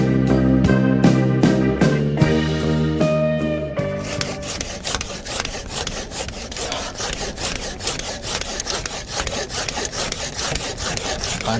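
Hand saw cutting through bamboo while a bench for a nipa hut is being built: steady rhythmic back-and-forth rasping strokes, close and loud, with a short tonal ringing at the start.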